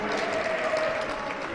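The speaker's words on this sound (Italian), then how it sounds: "meritano non un applauso, un super applauso questi ragazzi" Applause for a baskin (inclusive basketball) team at an energy tournament, a brief dense wash of clapping from a crowd, steady and fairly loud, with a voice faintly over it.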